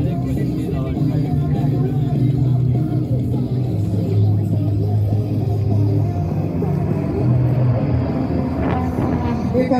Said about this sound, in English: Great sounding car there, a classic SR20 sound.